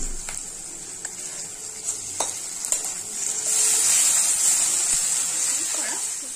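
Ginger-garlic paste sizzling with onions in a pan for mutton curry, a loud steady hiss that swells partway through, with occasional stirring clicks early on.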